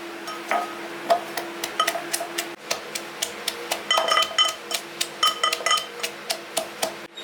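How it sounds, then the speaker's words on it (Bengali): Green chillies, garlic and a piece of ginger are pounded together in a mortar for a Bengali mutton curry, giving a run of sharp, ringing hard knocks that speed up and grow busier partway through. "কাঁচা লঙ্কা আর রসুন এই তিনটেকে আমি একত্রে কুটে নেব"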